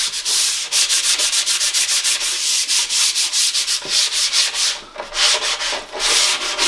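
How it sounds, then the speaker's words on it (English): Hand sanding of a melamine surface with worn 80-grit sandpaper, a loud, close, steady scratchy rasp in rhythmic back-and-forth strokes with brief breaks, no voices. "I'm just using some worn down 80 grade sandpaper."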